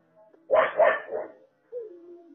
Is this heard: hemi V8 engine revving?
no